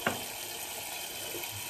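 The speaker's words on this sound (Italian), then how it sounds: "Tanto l'acqua la facciamo scorrere per bagnarci il viso e per bagnare il pennello e prelevare poi il sapone" A bathroom tap runs steadily to wet a face and a shaving brush, giving a continuous close-up hiss of flowing water with a brief splash at the start.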